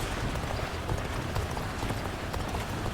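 Cavalry horses in the video game Dynasty Warriors Origins clatter along in a dense, continuous drumming of hooves, loud and close with no pause.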